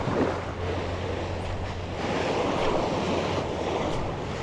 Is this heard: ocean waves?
yes